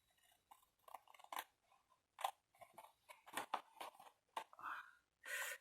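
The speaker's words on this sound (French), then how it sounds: "Alors, les carrés, vous les coupez." Scissors snipping fabric squares for a baby's cloth house, a string of short crisp cuts at an uneven pace, close and quiet with small pauses between snips.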